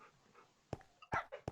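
A dog or wolf in Minecraft gives a few short, sharp bursts, panting and whimpering over a quiet game background, with a brief yelp near the end.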